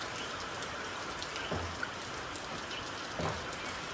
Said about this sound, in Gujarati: વરસાદ ચાલુ આમ અવાજ આવ્યો આ પતરાનો